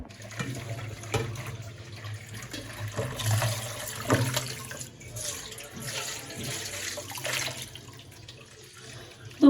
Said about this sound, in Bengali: এখন মাংসটা সুন্দর করে ধুয়ে নিলাম পরিষ্কার করে